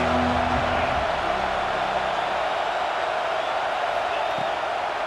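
A dense, steady roar of a large stadium crowd in a John Madden American football video game fills the whole stretch, loud and continuous with no pauses.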